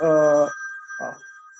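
A telephone rings with a bright electronic warble, one long burst followed by a shorter second pulse, close and clear with no talk over it.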